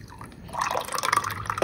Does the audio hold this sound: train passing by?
no